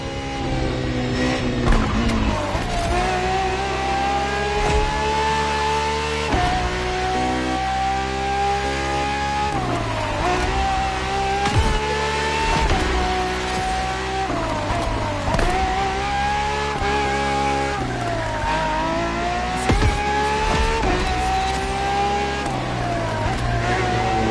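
A Ferrari FXX K engine in The Crew Motorfest revs hard through repeated gear changes, each loud rising howl cut off by a shift and climbing again, close and continuous, with the game's music underneath.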